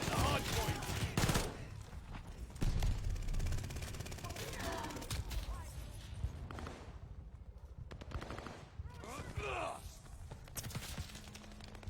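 Video game gunfire in Call of Duty: Vanguard around a hardpoint objective, with sustained automatic bursts and scattered single shots crackling through a busy battle mix for twelve seconds, dense and fairly loud with brief lulls.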